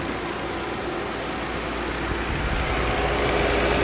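Steady engine idle from a 2008 Nissan Altima with a vacuum leak under the hood, a constant loud hissing, whooshing drone with no break and no voices.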